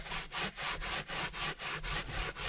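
Rhythmic rubbing of leather conditioner into a leather car seat in a Rover P4, about eight steady back-and-forth strokes, close and fairly loud with a brief gap between each pass, no voices.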